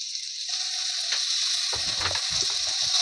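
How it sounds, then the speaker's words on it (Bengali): Ginger-garlic paste fries in hot oil with tomato and onion, giving a steady, close hiss of sizzling, and low scraping and stirring sounds join in partway through. "ভালো করে এটাকে ভেজে নেবো যাতে না কাঁচা গন্ধ থাকে"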